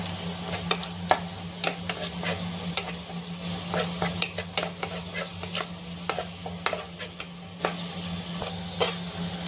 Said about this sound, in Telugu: నేనైతే మొదట ఎండు ద్రాక్షను వేస్తున్నాను.